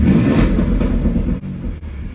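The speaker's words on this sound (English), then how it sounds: "And then I'll open up the exhaust here." A Porsche Cayenne fitted with a straight-pipe exhaust, valves opened, rumbles loudly up close with a deep, throaty drone that surges early and then dips in two short breaks.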